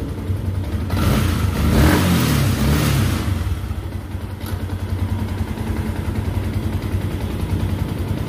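A Yamaha Sniper 150 v2 motorcycle engine starts and revs up loudly nearby, then settles into a steady, rumbling idle that continues to the end, with no talking.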